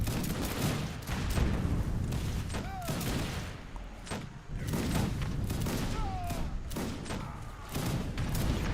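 Organ gun volleys crackle repeatedly in an Age of Empires 3 Wars of Liberty battle, a busy stream of gunfire bursts and thuds with faint whistling tones mixed in, fairly loud throughout.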